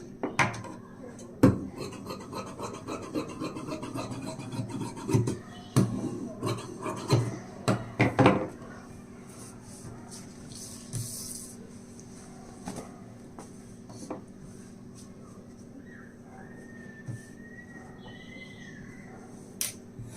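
Blouse lining fabric being cut with scissors, heard as close, dry rasping snips and rubbing in an irregular run that thins to faint scattered snips later on, with no talking.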